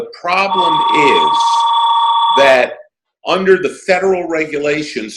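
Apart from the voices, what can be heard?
telephone ringing in the room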